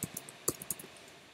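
Soft, sparse clicks of a computer keyboard as an invoice description is typed into accounting software, a handful of quiet taps at uneven intervals against a faint background.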